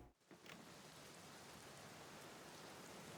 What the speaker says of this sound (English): Out into the cold,